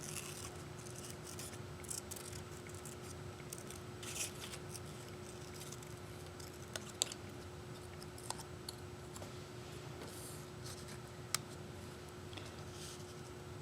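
Scissors snipping through a fabric or paper scrap while making a teddy bear nose craft, with faint, close, intermittent cuts and soft clicks over a steady low hum, quiet and without talking.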